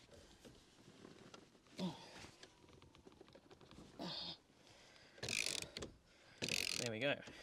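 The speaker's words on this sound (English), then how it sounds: "Now this does have some nylock thread lock on the bolt, so it is a bit stiff half the way out, and then it'll come loose." Steering wheel bolt coated with nylock thread lock being undone by hand tool, giving several short bursts of ratcheting clicks and metallic scrapes close up, separated by quieter gaps.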